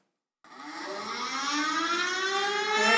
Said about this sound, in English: And outdoor warning siren.